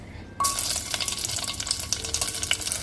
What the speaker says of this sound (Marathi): फोडणीमध्ये हे मोहरी, जिरे, त्यानंतर कढीपत्ता आणि हिरवी मिरची, हिंग, आपली नेहमीप्रमाणेच फोडणी